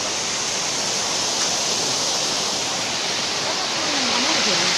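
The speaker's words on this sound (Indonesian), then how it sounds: "Ini air terjun Tekorak" The Tengkorak waterfall pours in a steady, dense, close roar of falling water that stays loud and unbroken throughout, with a faint voice murmuring underneath near the end.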